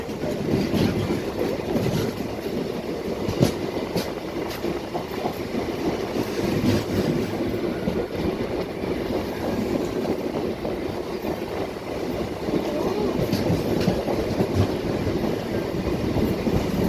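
Chennai suburban local train on the Beach–Minjur line rolling along the rails, a continuous loud rumble from inside the carriage with rhythmic wheel clicks and occasional metallic clacks, steady and close throughout, with no talking.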